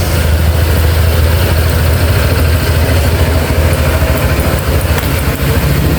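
A motorcycle engine idles steadily at close range, a continuous low rumble running without a break or rev.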